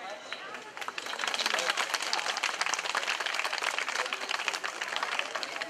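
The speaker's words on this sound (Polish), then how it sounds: "Wielkie brawa." Crowd at a village festival breaking into loud, sustained applause, a dense wash of many hands clapping that swells after the first second and holds steady, with faint crowd voices beneath.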